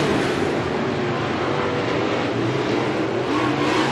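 Race cars at Bakersfield Speedway roar past in a dense, continuous engine drone, running side by side into turns 1 and 2, loud and steady throughout.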